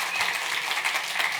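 An audience applauding for teaching assistants at a public HRD contest presentation, a steady wash of moderate clapping filling the whole brief moment with no pauses.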